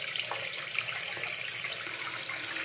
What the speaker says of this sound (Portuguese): Meu neto foi abrir a torneira. Tá vendo? Abre, maravilhoso.